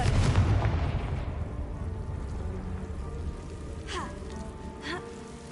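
A Confringo blasting spell from Hogwarts Legacy bursts loudly at the start, its rumbling roar fading over several seconds, followed later by two whooshing sweeps.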